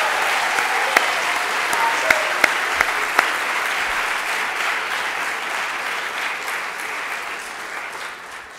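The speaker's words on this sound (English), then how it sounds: "I think we should give an applause" An audience at an annual symposium applauds in a long, steady burst of many hands, with a few sharper individual claps standing out early on before the clapping slowly thins toward the end.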